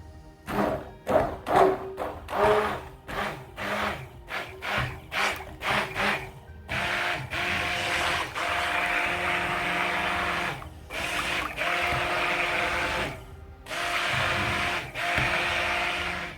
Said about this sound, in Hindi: अब इसको मैं हैंड बीटर से इसको ग्राइंड कर दूंगी।